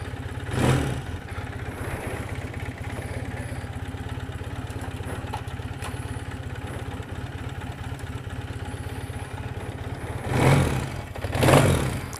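A 1984 Honda CB400 cafe racer motorcycle engine idles steadily with a low, even thrum, broken by two brief throttle blips near the start and again near the end, with no talk over it.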